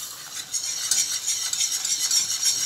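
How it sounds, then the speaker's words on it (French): A spoon or whisk stirs flour into melted butter in a pan for a roux, a steady close scraping and swishing with a faint sizzle, heard alone with no talk. "on y incorporera la farine et ensuite le lait"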